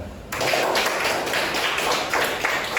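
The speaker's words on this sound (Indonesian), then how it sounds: "kita kasih tepuk tangan" A class applauding a group after its presentation, a steady wash of many hands clapping together at close range for a few seconds, with no talk over it.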